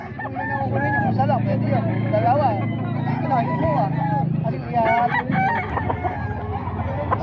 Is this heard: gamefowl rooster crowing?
yes